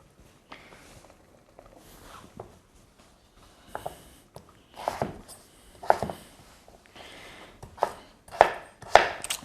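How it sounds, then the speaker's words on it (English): A knife chops through pumpkin on a board for a salad, sparse cuts at first building to a run of sharp, close, louder thuds toward the end, with no talking. "chop this up"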